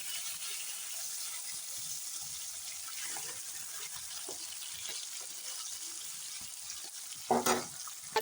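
Bata fish fried in oil in a wok makes a steady sizzling hiss with faint stirring clatter, and a brief louder burst near the end as pieces are turned.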